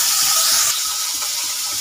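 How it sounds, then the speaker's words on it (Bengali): Desi tangra fish sizzling in hot oil in a home kitchen pan, a steady close hiss and crackle that holds throughout, slightly louder at the start. "চলুন মাছগুলো ভেজে নিই"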